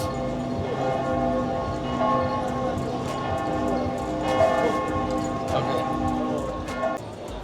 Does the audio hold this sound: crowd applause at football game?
no